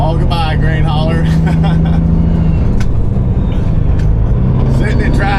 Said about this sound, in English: Sitting in traffic sucks.